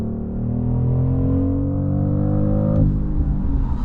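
A 2025 BMW X3 M50 accelerating hard. The engine note climbs steadily in pitch, then drops sharply near the end as the sport transmission shifts.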